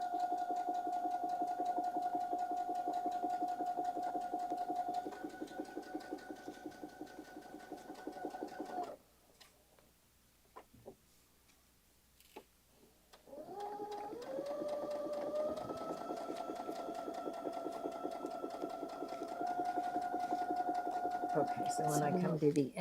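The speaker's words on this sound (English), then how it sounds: "what I'll do is sew up to the end, and then just touch the reverse button, and it will back stitch for me and cut the thread" A sewing machine stitching a Christmas table runner, running in a steady whirring drone with a clear tonal hum, stopping briefly for a few seconds of near quiet, then starting up again and running to the end.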